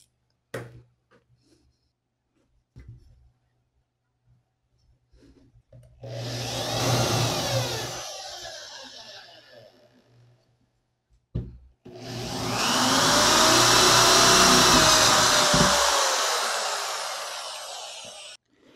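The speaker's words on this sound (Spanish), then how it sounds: "PVC de 3/4, el cual vamos a perforar para cruzar por acá el cable coaxial y hacer la conexión." A power drill bores through a 3/4-inch PVC pipe in two loud, sustained whining bursts, separated by quiet pauses with faint handling knocks, close up and with no speech.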